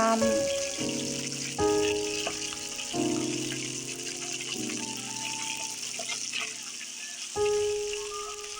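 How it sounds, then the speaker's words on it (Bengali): Tilapia fish sizzle in hot oil with a steady crackling hiss throughout, while a melodic background music track plays over the frying. "মাছগুলো আমি কড়া করে ভেজে নিব"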